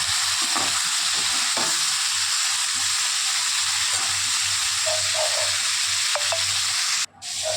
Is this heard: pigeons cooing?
no